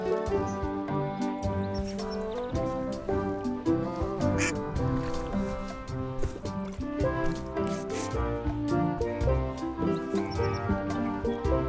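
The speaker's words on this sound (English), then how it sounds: "Don't feed the duck." Repeated duck quacks in the Return to Monkey Island video game, heard over a steady, busy music score with plucked tonal patterns running throughout.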